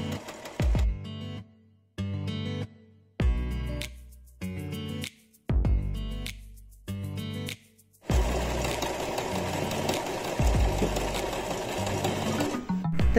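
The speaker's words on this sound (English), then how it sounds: "This is hours of sewing," A sewing machine stitching Bimini boat-top fabric with heavy Sailrite thread, first in five short loud bursts separated by pauses, then one long sustained close run at full speed.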